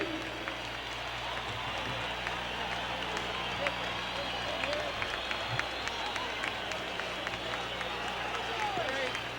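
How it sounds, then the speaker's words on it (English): A hockey arena crowd of Houston Aeros and Winnipeg Jets fans on its feet cheering, a steady, dense roar of voices and clapping that holds loud for the whole stretch, with a commentator talking over it. "They're standing and cheering."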